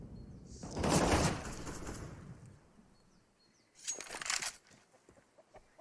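Counter-Strike gunfire and a Molotov on the Inferno map at a pro esports match: a loud burst of shots with a rushing fiery whoosh, then a second short volley of gunfire and scattered faint clicks.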